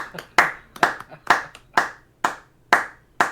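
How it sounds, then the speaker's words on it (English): Slow, evenly spaced hand claps, about eight sharp claps in a steady rhythm, fairly close and alone. "it's a round of applause, isn't it?"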